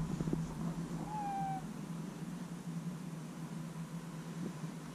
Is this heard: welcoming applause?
no